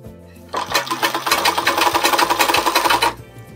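A sewing machine stitches around the neck of a lined blouse in one loud, close burst of about two and a half seconds, with rapid even needle strokes and a faint hum before and after.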